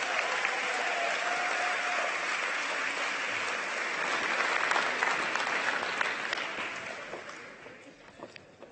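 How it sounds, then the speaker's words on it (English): An audience applauds at a city's State of the City celebration, a steady, dense clapping that keeps going and then thins out and fades toward the end. "Please join me in applauding the Streamlined restaurant program as a shining example of how Building Division is striving to improve customer service."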